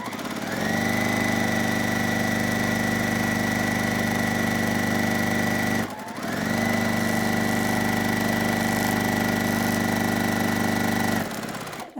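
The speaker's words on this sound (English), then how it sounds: "I'm just going to sew all of the strip sets that I need" A sewing machine with a quarter-inch seam guide stitches quilt strip sets at a short stitch length. It makes a steady, close mechanical whirr that stops briefly midway, then runs on evenly before halting at the end.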